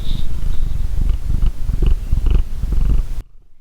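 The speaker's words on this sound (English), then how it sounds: "Everyone say hi to my cat real quick" A cat purrs close up, a loud, rhythmic rumbling with a steady in-and-out pulse that cuts off abruptly just before the end.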